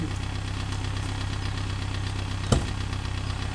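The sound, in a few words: Mini R50 car engine running with slight knocking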